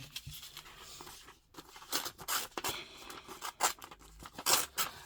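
Paper is ripped by hand for card embellishments in a series of short, crisp tearing strokes with brief pauses between, close and fairly quiet, no talking.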